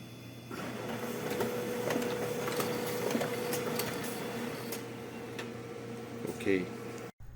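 An office printer runs steadily, its mechanical whirring and rhythmic ticking filling the room for several seconds before stopping abruptly, with a voice speaking nearby over the machine.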